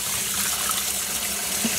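Running water rinsing Kool-Aid dye out of cotton fabric, a steady close hiss of tap flow splashing over the wet cloth, continuous with no talk.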